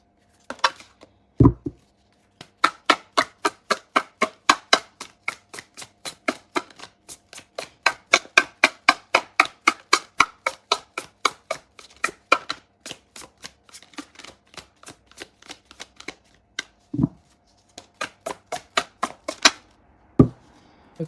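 Tarot and oracle cards are shuffled by hand close up, a long run of rapid, crisp riffling snaps in steady bursts with brief pauses and a few louder knocks.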